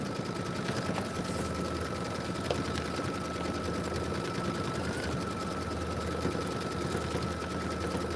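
A Kimberbell embroidery machine stitching out a design, a steady fast mechanical whirring and needle chatter running continuously at an even level, close by with no voices.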